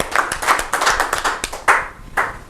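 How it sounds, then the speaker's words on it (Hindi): Audience at a Rajasthan Parishad event claps in a few loose bursts, the sharp hand claps close and uneven, rising and dropping in waves rather than a sustained ovation. "तो एक और जोरदार तालियां हो जाएगी।"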